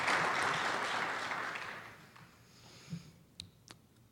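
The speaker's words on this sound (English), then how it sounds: "A big round of applause for everybody." Conference attendees give a big round of applause, loud at first and then fading away within about two seconds, followed by quiet room noise and a few isolated claps.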